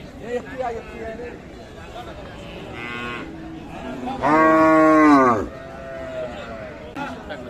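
A cow at a Bangladeshi cattle market selling dairy cows with calves lets out one loud, drawn-out moo in the middle, with fainter lowing before it, over steady crowd murmur and nearby talking.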